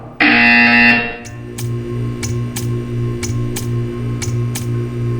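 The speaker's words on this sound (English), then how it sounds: "You will hear a buzzer." A loud, harsh electronic buzzer in the video game Portal 2 blares for about a second, then a faint regular ticking continues over a low steady hum.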